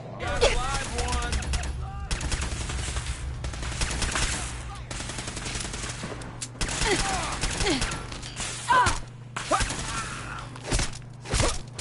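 Dense bursts of automatic gunfire and scattered single shots in a PS4 shooter game, sounding close and loud throughout, mixed with game voice chatter and impacts.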